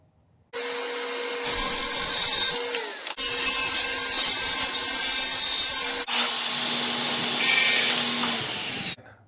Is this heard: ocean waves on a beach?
no